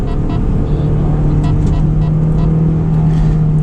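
A 2004 Honda S2000 driving at steady speed, a loud continuous engine drone with road and wind noise filling the cabin, no talking.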